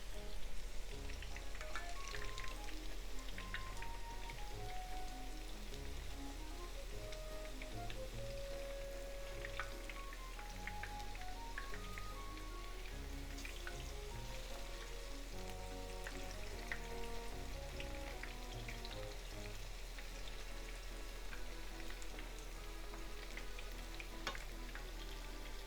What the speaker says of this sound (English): And just fry them, little over 1 minute on each side.